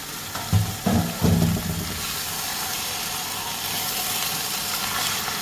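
Chicken, about 1.5 kg, sautés in a pan with masala for a white chicken curry, a steady sizzling hiss throughout with a few stirring clatters early on.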